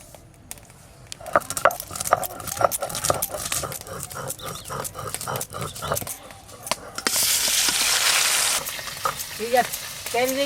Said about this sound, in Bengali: তেল দিয়েছি, ওই তেলেই সব মাছ ভাজা হয়ে যাবে